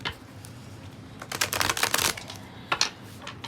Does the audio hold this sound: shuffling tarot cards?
yes